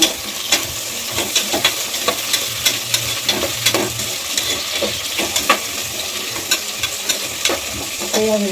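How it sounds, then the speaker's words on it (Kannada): Chopped beans, carrot and kohlrabi sizzle steadily in a hot pan, with a spoon scraping and stirring in irregular knocks close by, the frying hiss continuous underneath. "ಸ್ವಲ್ಪ ಫ್ರೈ ಮಾಡೋಣ."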